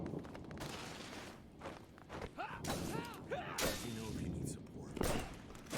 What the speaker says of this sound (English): If I need support, how about you just shoot something there, Bubba?